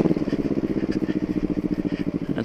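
A motorcycle engine chugs with a steady rapid pulsing rhythm as it rolls along at low speed near the rider, with no talk over it.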